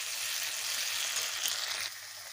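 Ginger-garlic paste, dried red chilli and cumin paste fry in hot oil for a potato and shing fish curry. A close, steady hiss holds for about two seconds, then drops a little quieter. No speech is heard.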